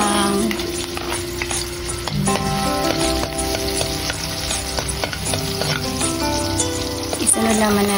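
Garlic sizzles and crackles steadily in hot cooking oil while being stirred, close and continuous, with utensil scrapes for a Filipino mung bean dish.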